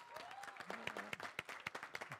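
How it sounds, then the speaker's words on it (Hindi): Scattered, faint clapping from a small group rings out in uneven individual claps, preceded by a brief voice and a few tonal notes. "अभी सब ताली बजाओ"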